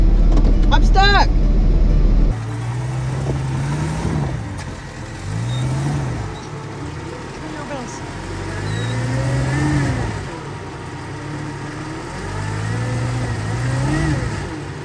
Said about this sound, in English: The Cherokee's struggling a little bit to get over this tree